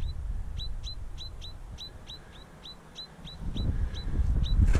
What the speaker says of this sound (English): His mummy, she's chirping away.